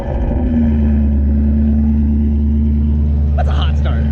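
A built, sleeved and supercharged Ford Mustang GT350 engine idles after a hot start, giving a loud, steady, deep rumble with a sustained whine above it and brief higher-pitched noises near the end.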